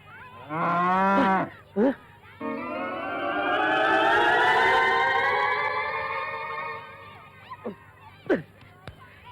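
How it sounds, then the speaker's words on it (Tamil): A cow moos loudly and close, one short rising call followed by a long, drawn-out bellow lasting several seconds, with a few sharp knocks and scrapes around it. "இது ஜுஜிலிபாவோட மாடு"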